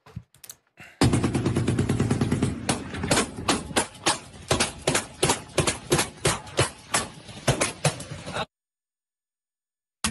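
Bursts of gunfire from Russian defenses against Ukrainian naval drones, a rapid rattle followed by a string of separate loud shots at uneven intervals, then a final explosion and abrupt silence.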